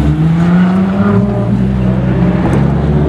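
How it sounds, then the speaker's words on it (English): A white Ferrari LaFerrari with white wheels at a car meet gives a loud, steady engine drone that holds close and strong throughout with no break. "Laferrari right there in white with white wheels."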